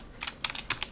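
Keystrokes on a computer keyboard while entering a static IP route command in a networking lab, several quick clicks in short irregular bursts, close and fairly clear with no talking.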